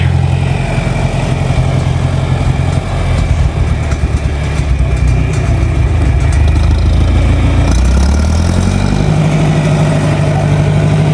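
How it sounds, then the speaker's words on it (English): A tractor engine runs steadily with a deep, continuous low rumble that stays loud and close throughout, and no voices are heard. "still driving a tractor"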